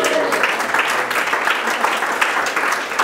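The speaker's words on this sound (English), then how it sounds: "Ladies and gentlemen, big round of applause for the Wheel of Bias." A round of applause from an audience at a presentation, with steady, dense clapping at a constant moderate level for a few seconds and faint voices mixed in.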